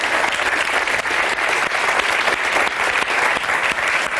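Studio audience on a French television talk show applauding its guests, dense continuous clapping, loud and close, filling the whole stretch with no talk over it.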